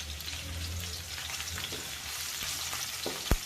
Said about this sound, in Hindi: अब इसमें हम शामिल कर देंगे लहसुन और हरी मिर्च।